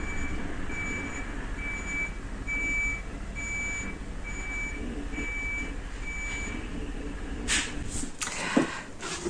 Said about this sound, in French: J'ai un camion qui est en train de se garer.